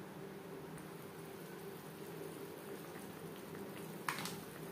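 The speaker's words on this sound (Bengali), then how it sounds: "এখানে আমি একটু গা মাখা মাখা গ্রেভি রাখবো, ফুটে ওঠা পর্যন্ত অপেক্ষা করব।" Catla fish kalia curry gravy simmering in a pan, a soft steady bubbling hiss that stays faint and even throughout, with one brief clink near the end.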